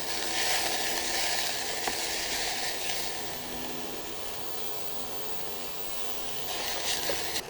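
Shallots frying in a hot pan while being stirred, giving a steady, moderately loud sizzle and hiss that swells slightly at the start and the end, with no talking.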